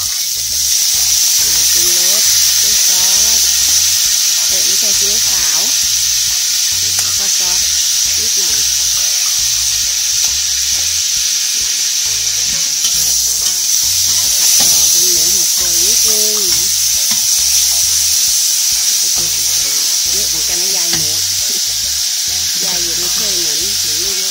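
Pork stir-fries with cabbage and glass noodles in a hot pan, giving a continuous loud sizzle with scraping, stirring strokes throughout while someone talks over the cooking.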